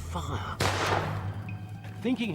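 A single sharp gunshot from a period firearm cracks out, followed by a brief echoing tail, with someone talking in Spanish before and after it.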